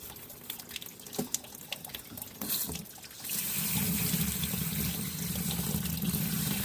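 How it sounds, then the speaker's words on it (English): Rocks from a vibratory tumbler are scrubbed clean of phase 2 grit: scattered knocks and clicks come first, then a faucet opens into a steady, close splash and rush of running water that continues to the end. "So I'm going to give them a scrub, get all that phase 2 grit off of them."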